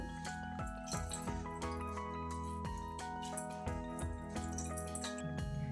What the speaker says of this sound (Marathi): आता कापडाचे चारही टोके एकत्र करून घेऊया आणि हाताने थोडंसं दाबून यातील पाणी निथळून घ्यायचं